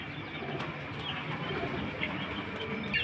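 Pigeons kept for sale at a loft in Beldanga coo faintly over a steady background hiss, a low murmur at moderate distance with no voices.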